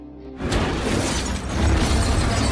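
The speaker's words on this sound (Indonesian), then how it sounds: "Vince langsung menembakkan senjata untuk melepas kaca" In an action racing film, a gunshot shatters a glass window: a loud sudden burst followed by a dense, sustained crash of breaking glass, close and alone.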